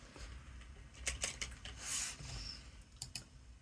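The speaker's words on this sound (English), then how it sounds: "Again, I'm gonna type it out." Fingers tap out a URL on a computer keyboard in short, irregular bursts of soft clicking keystrokes, close and quiet, with no voice.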